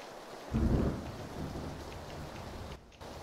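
Rain and thunder in the video game PUBG, a steady hiss of falling rain with a deep rumbling thunderclap near the start that fades into the downpour, and no speech.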